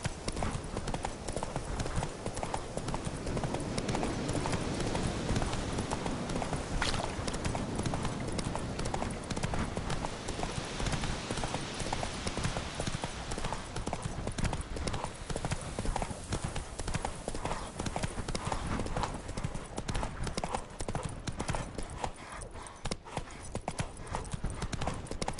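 Roach the horse gallops in The Witcher 3 video game, a dense, continuous drumming of hooves with no pauses, loud and close throughout.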